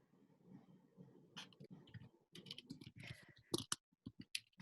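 Someone types on a computer keyboard during an online chat session, quiet irregular clicks and bursts of keystrokes, close and faint with no voices.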